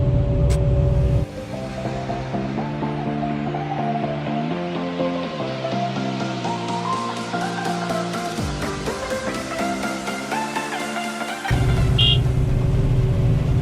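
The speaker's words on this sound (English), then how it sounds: "We'll wait for our truck to arrive." A small dump truck arrives at a digger to be loaded, its engine droning loudly and close, the pitch stepping up and down through shifts for about ten seconds before settling back to a heavy idle.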